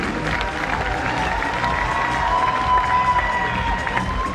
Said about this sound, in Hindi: एक बार फिर से जोरदार तालियां हो जाए for mister and Mrs Shiv Kumar everybody.